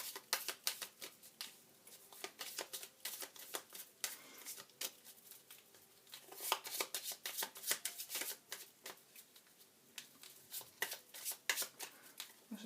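Close by and fairly quiet, oracle or tarot cards are shuffled by hand as a dense run of rapid riffling flicks, with a brief lull before the shuffling picks up again.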